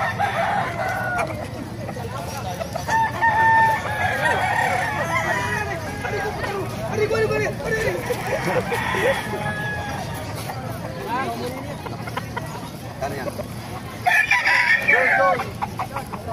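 Talisay gamefowl roosters crow repeatedly at a busy Bocaue market, several birds overlapping near and far amid clucking and a constant babble of crowd chatter.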